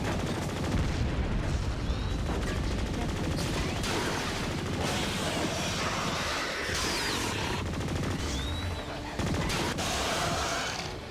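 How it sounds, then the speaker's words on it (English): Continuous gunfire in the PC game BlowOut as shots pound into walls, a dense, loud barrage of rapid reports and crashing impacts that runs almost without pause throughout. "let me shoot these walls"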